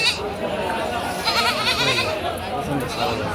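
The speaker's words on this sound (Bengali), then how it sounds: "এই যে অনেক ছাগল আছে বাজারে প্রচুর পরিমাণ ছাগল" Goats bleat repeatedly at a crowded village livestock market (haat), several wavering calls overlapping at close range over a murmur of people talking.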